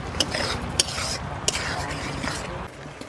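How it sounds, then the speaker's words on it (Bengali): Eel curry bubbling in a pot after chopped coriander is stirred in, a steady close simmering sizzle with a few sharp clinks of utensil against the pot. "এবার আমি ধনেপাতা কুচি দিয়ে দেবো, দিয়ে 1 মিনিট ফুটিয়ে নেব।"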